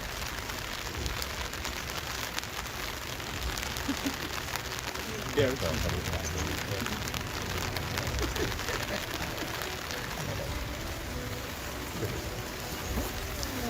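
Steady rain falling and pattering on surfaces outdoors, a dense continuous hiss with faint talking mixed in.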